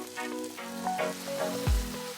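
Spices sizzle and fry in a pan for spinach curry, a steady close crackle with a louder hiss burst near the end, no talk.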